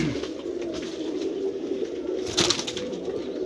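A red-eyed pigeon of the waxy-beaked type gives a continuous low cooing close up, a steady purring drone with a slightly louder swell near the end and no voices.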